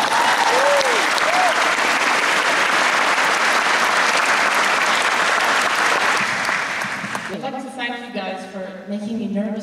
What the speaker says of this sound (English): In which case, please, ladies and gentlemen, how about a round of applause for Stella Assange?